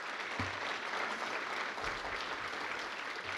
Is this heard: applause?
yes